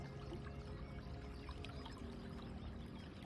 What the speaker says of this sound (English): the river trying to make its way past submerged rocks, making its beautiful gurgling sounds